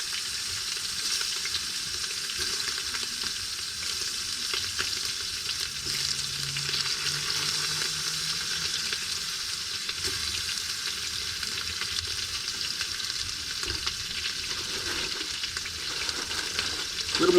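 Shrimp frying in butter in a pan at a winter campsite, giving a loud, steady sizzle that carries on without a break from start to finish, close by and with no voices over it.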